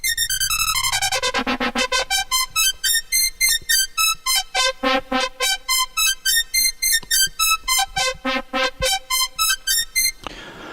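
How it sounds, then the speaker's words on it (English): A Yamaha FM-X synth patch, a sine modulator driving a fixed-frequency carrier, plays a rapid sequence of bright, whistle-like pulsing tones with shifting pitch, loud and repetitive over about ten seconds, alone. "So this is the sine wave operator 7 modulator going through our fixed frequency carrier wave operator 8,"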